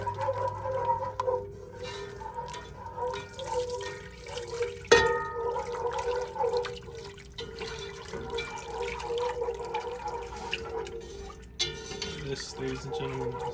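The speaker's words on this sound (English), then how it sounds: "we're gonna start adding this beef broth in here, little by little, and whisking rapidly" Beef broth poured little by little into a roux while being whisked rapidly for beef stroganoff, giving a steady liquid splashing and sloshing with a sharp knock partway through, close and moderately loud.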